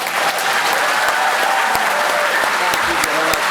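Applause from a graduation ceremony audience, a steady dense patter of many hands clapping at close range, loud and continuous throughout with no voices over it.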